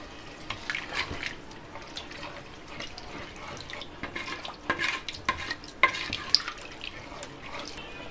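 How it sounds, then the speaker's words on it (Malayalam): A spoon stirs tomato rice in a pot after water has been added, producing scattered wet scraping and sloshing sounds at moderate volume with a quiet background. "നന്നായിട്ടൊന്ന് മിക്സ് ചെയ്യാം."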